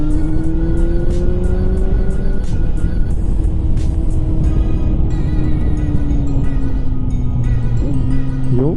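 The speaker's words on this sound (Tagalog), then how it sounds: "Sarap mag downshift dito." A Kawasaki Z900 motorcycle downshifting on an open road, its engine note dropping and climbing in steps under steady loud wind rush, close to the rider.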